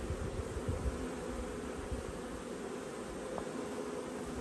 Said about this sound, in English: it appears that these bees are all fanning